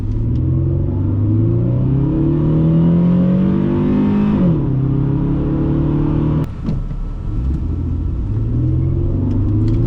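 A 2001 Dodge Intrepid with the 3.5L engine accelerates hard on a test drive, its engine note rising loud and steady through the gears, with a brief dip at a shift and no voices.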